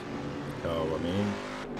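A late-1960s-style Corvette race car on the out lap at Sebring International Raceway in Assetto Corsa, its engine droning and briefly revving beneath someone talking throughout.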